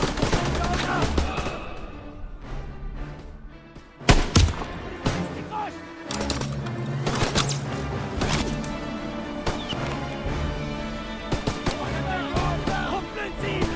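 Sniper gunfire in the Call of Duty WWII campaign, set in November 1944: sharp, loud shots and cracks strike irregularly over a rumbling battle bed, with a heavy burst near the middle and scattered impacts after.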